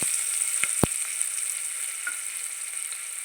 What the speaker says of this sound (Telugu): ఇవి వేగుతున్నాయి కదా ఇప్పుడు ఇందులో